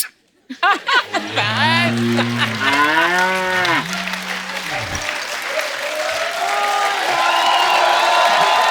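A buffalo moos in long, loud, drawn-out calls during a comedy show, and a studio audience breaks into applause and cheering that continues after the lowing ends.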